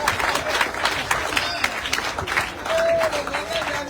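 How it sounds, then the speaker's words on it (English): An audience breaks into applause during a talk about Liberia's first solar power plant, with scattered, uneven clapping and a voice talking over it. A brief tonal sound rises near the end. "Just clap for me, sir."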